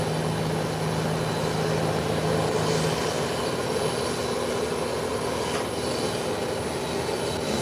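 An airplane coming in to land near an active ramp, a steady broad engine roar with a low hum, holding fairly constant rather than rising or fading, with no talking.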